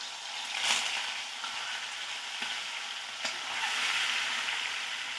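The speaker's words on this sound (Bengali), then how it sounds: "ওই একই তেলে এবার চিকেনগুলো দিয়ে দেবো" Chicken pieces fry in hot oil left from frying potatoes, a close, hissing sizzle that swells and eases with a few soft stirring knocks, no speech.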